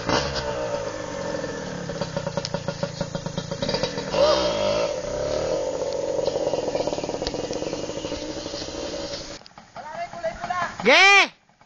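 A motorcycle on a dirt trail revs and drones, its engine rising and falling near the listener, with voices and shouting over it toward the end.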